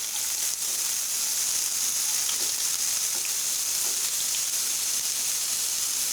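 Onions sizzling in hot oil with cumin seeds in a pan, a steady bright hiss and crackle that continues evenly throughout with no talking.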